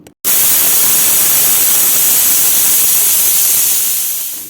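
A loud, sustained steam hiss like a pressure cooker venting while cooking rice, starting abruptly and holding steady for several seconds before easing slightly.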